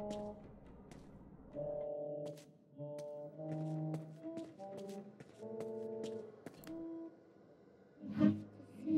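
Faint wordless girl's singing drifts through a voice pipe in the video game Nier Replicant, with soft held tonal notes in short phrases separated by pauses and a brief thump near the end.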